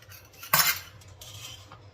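Washed utensils and dishes are handled in a home kitchen, producing one bright metallic clatter of cutlery followed by quieter scattered clinks, close by, with no voices.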